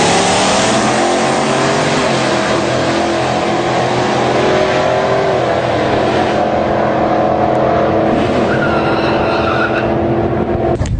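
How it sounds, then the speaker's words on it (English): Flame Chevelle race car making a run at the Great Bend, Kansas track, a loud sustained engine roar with rising revs and tire noise, dense and continuous throughout with no voices. "first we're going to get a look at the run of that car"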